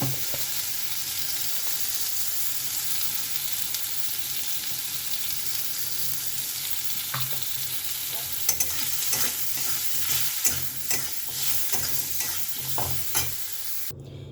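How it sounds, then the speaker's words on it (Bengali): Mango pieces fry with mustard seeds, salt and turmeric for a small batch of chutney, a constant close sizzle that grows busier in the second half as a utensil scrapes and stirs the pan in repeated strokes. "একটু সর্ষে ফোড়ন দিয়ে নুন হলুদ দিয়ে আমগুলো ভেজে জল দিয়ে দিয়েছি"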